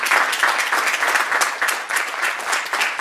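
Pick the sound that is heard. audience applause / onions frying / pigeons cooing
audience applause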